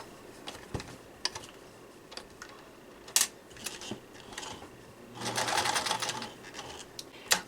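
A sewing machine stitches a pleated fabric pocket filter mask, with scattered short bursts of needle clatter and a longer steady run near the end, fairly close and without talk.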